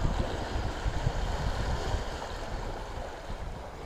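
A sailing catamaran coasts at about 4.5 knots through light seas with a little swell off Kalymnos, Greece, producing a steady, close wash of water and breezy wind noise with no talking.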